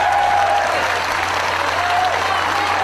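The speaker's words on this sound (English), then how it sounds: "As the fans, you can hear the applause." Wrestling fans at a live indoor show applaud loudly and continuously, a thick wash of clapping and crowd noise with no breaks.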